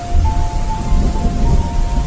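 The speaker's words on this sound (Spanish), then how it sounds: "pues lluvia arrecia y me alcanza cada vez más" Heavy rain falls steadily with a dense hiss and a low rumble underneath, loud and continuous, while a faint steady tone runs through it.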